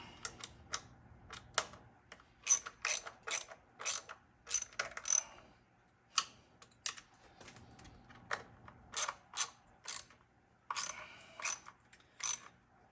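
Ratchet snugging down the ignition coil bolts on a Nissan S13 engine, in quick bursts of clicking strokes with short pauses between them, close up and fairly quiet, with no talking.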